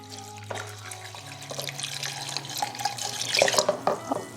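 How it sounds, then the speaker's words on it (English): Water runs steadily from a tap into a pot of apple slices, a continuous splashing stream that grows slightly louder toward the end, with no voices. "And then we'll add some water."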